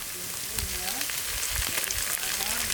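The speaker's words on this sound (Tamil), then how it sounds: "இப்போ எல்லாரையும் ஆனியன் போட்டுட்டு நல்லா நல்லா கிண்டிக்குவோம் பட்டரோட சேர்த்து" Chopped onion frying in butter in a pan, a steady bright sizzle with occasional scraping and stirring knocks from a spoon, close and continuous, no talking.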